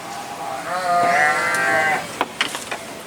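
A goat bleats once at an agricultural expo in Sukoharjo, a long, loud, quavering call up close, followed by a few sharp clicks and knocks.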